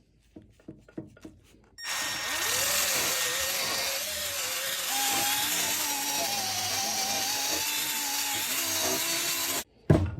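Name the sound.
polishing an old exhaust with Mothers mag and aluminum polish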